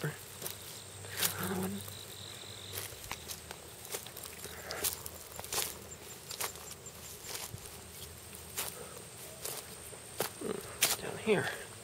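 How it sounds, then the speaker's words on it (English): Insects chirp steadily outdoors in overgrown ground by a compost heap at an abandoned trailer, a faint continuous buzz with footsteps crunching and a voice speaking intermittently. "Grasshopper."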